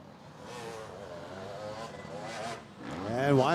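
Supercross motorcycles race on an indoor-style track, engines droning and rising in pitch as a bike accelerates toward a pass, heard moderately near with a strong rev swell at the end.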